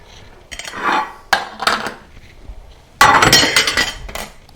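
Dishes and glass clink and clatter as a plate is pulled from a stack in a home kitchen, three close bursts of chinking china with short pauses between, no talking.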